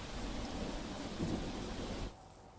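Heavy rain pouring over flooded streets in Surat, a dense steady hiss with a low rumble of thunder swelling midway before the downpour sound drops off abruptly near the end.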